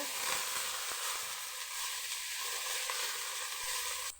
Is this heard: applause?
no